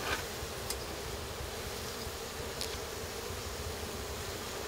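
Honey bees buzz steadily in a hive box during a honey harvest at Rancho Gallinas, a continuous insect hum at moderate level with no talk, only faint brief clicks now and then.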